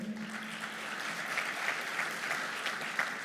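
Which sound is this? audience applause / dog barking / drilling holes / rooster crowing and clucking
audience applause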